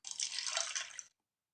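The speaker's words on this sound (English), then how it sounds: "He could pour his own milk." Milk is poured into a cup, a single short, bright gurgling stream lasting about a second and then stopping into silence.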